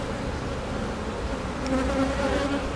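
Dense, steady buzzing of many honeybees at an open hive, close and continuous with a few individual bees droning louder past the microphone.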